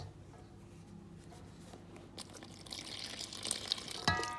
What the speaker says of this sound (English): And we're gonna add our water.